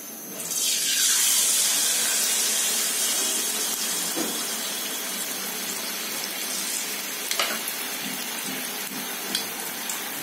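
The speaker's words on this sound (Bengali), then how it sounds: "এটা এখন আমি ব্যাটারে ডুবিয়ে তারপর তেলের মধ্যে দিব।" A battered boiled egg drops into hot oil and sets off a loud rushing sizzle that swells quickly, then settles into a steady bubbling fry with a few small pops.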